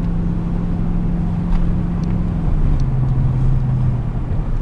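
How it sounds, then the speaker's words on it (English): A 2005 Chevy Silverado 1500 pickup cruising straight down a road, a steady loud low engine and road drone from inside the cab with a slight pitch change midway as it shifts. "Vehicle drives straight."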